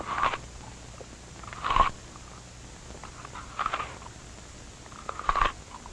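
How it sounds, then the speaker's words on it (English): Chewing effect from the horror film Death Bed: The Bed that Eats, heard as a few short, moist bursts spaced about two seconds apart over a low, steady background hum. "Get used to that chewing sound, it does not go away."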